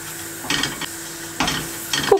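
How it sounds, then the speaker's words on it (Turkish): Flour being roasted in melted butter in a pot, a soft steady sizzle with a few short bursts of stirring scrapes, close and fairly quiet. "Kokusu çıkana kadar unu kavuruyorum."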